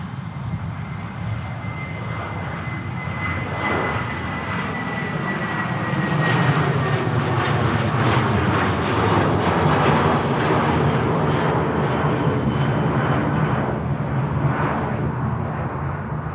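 A Jet2 airliner on a positioning flight takes off from an airport, its jet engines producing a steady, loud roar with a faint high whine that builds and holds throughout.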